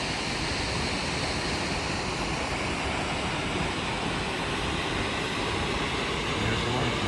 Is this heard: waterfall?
yes